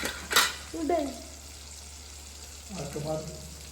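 Vathal, sun-dried vegetable crisps, frying in a pan at home: two short bursts of sizzling and stirring separated by a quiet gap, with faint voices mixed in.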